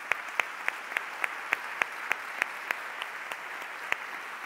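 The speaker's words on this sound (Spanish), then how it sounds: "yo creo que se merecen un aplauso" A modest audience at a round-table conference session applauds, with light, even clapping joined by a few sharper, distinct claps in an irregular rhythm, moderately distant and without speech.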